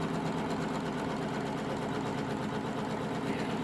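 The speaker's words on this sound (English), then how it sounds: "the first colour here is going to stitch out and show us where to be placing our iridescent film or Mylar" An embroidery machine stitches out the first colour on a design using iridescent film or Mylar, a steady, fast mechanical whir and patter of needle strokes running continuously at an even speed with no talk.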